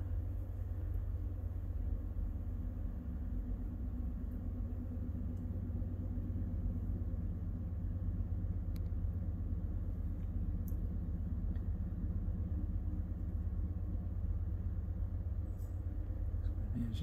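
The CN 3352 distributed power locomotive unit, likely a C6M rebuild, working at full throttle: a steady, deep diesel rumble, distant and faint, holding constant throughout.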